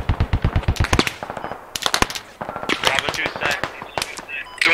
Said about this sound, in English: 50 cal in direct fire over ahead of us.